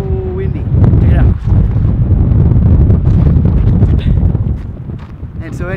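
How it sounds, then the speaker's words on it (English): Strong wind at Geyser Hot Springs in Colorado buffets the microphone in a loud, continuous low roar that barely lets up across the whole stretch, with a brief voice near the start. "it is so windy"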